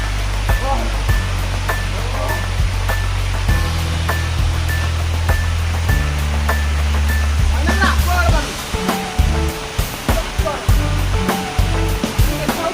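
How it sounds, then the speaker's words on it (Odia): Rainwater pours from high up in a steady, loud rushing roar like a waterfall, continuous throughout, with voices and music-like tones mixed in beneath. "ଏ ବର୍ଷା ପାଣି ଯେ ଦେଖନ୍ତୁ କେତେ ଉପରୁ ପାଣି ବାହାରୁଛି"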